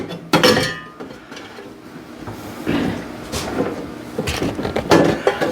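The nonstick ceramic pan of a VEVOR 19-in-1 bread maker is set into the machine and twisted into place, giving a few close, loud metallic clunks and clinks with quieter scraping between them.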